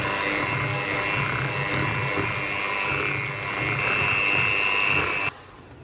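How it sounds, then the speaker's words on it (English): Electric mixer beating red-coloured buttercream for Christmas macarons on low speed, a steady close motor whir with a constant hum that cuts off near the end. "And just mix on a low speed."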